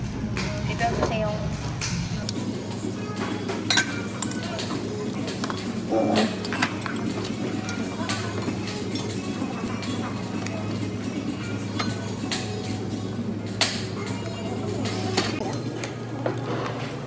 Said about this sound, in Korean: 비빔밥은 이렇게 비벼주시면 돼요